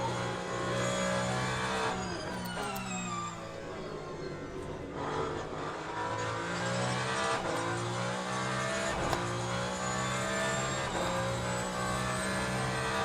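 A Ferrari hypercar racing at Fuji in a video game: a loud, close engine howling through rising and falling revs with upshifts and downshifts, steady and continuous, with faint tire noise.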